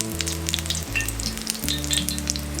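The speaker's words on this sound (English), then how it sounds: "So I'm going to let some of that excess drip off and go straight into the oil" Battered pieces fry in hot oil with a steady crackling sizzle and bright popping bursts, while a low tonal hum runs underneath throughout.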